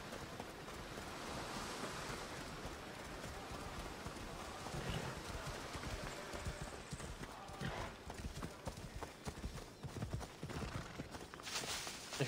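A horse gallops in Assassin's Creed Odyssey, its hooves beating in a steady rapid rhythm over wind and surf-like ambience, with faint chatter in the background.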